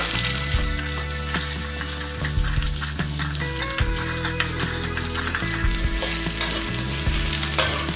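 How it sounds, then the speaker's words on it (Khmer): Garlic and shallots frying in a pan give a loud, continuous close sizzle with frequent stirring scrapes and light clinks, alone without speech. "ឥឡូវយើងលីងខ្ទឹមសខ្ទឹមក្រហមយើងសិន"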